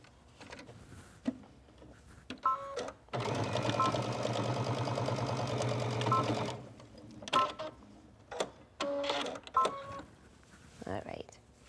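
Electric sewing machine stitching a hand warmer seam with a thumbhole for sportswear: one steady run of rapid mechanical whirring for about three seconds, close and loud, bracketed by short clicks, handling noises and brief talk.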